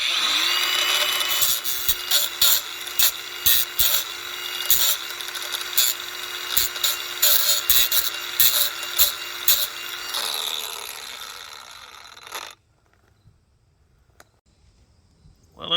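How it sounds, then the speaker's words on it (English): Angle grinder with its guard reset, stripping paint off a metal break before welding; a steady whine with scraping bursts runs for about twelve seconds, then cuts off, leaving near silence. "So reset the guard on the grinder, and let's see how well I can get in here."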